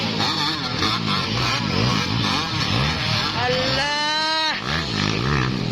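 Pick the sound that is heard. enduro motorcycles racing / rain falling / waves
enduro motorcycles racing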